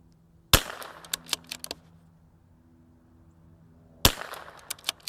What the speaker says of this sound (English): So I'm gonna shoot my groups here.